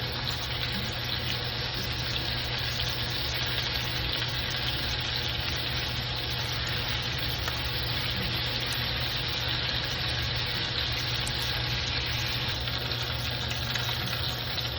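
Steady, even sizzling of chicken frying in a hot cast iron skillet, a continuous broad hiss with a low hum underneath and no voices.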